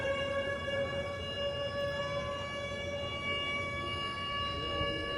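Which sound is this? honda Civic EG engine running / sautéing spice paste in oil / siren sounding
siren sounding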